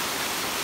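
Water falling at Himamawo Spring in Ibaan, Batangas, a dense continuous rushing hiss filling the whole brief moment, close and steady with no voices.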